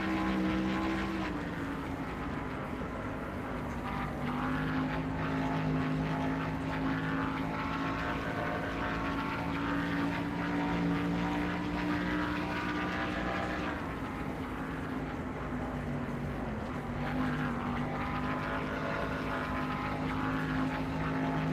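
Racing video game car engine droning at low RPM on the Long Pond straightaway at Pocono, a steady, fairly quiet hum with sustained tonal bands that shift slightly in pitch throughout.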